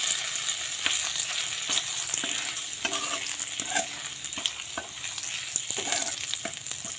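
Crushed ginger sizzles in hot oil with whole fennel seeds, a steady close frying hiss broken by scattered spoon scrapes and stirring clicks, with no voices.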